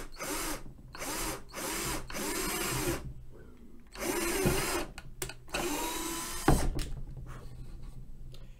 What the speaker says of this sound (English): So now I know where I need to drill. So I'm just going to drill in.